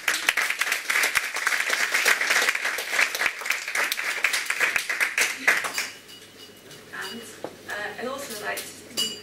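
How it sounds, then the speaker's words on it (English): A conference audience at a charity's annual general meeting breaks into a round of applause, dense clapping with scattered clinks of cups and cutlery that fades out after about six seconds as quiet chatter and a voice take over. "So I'd like to give a round of applause to Heather."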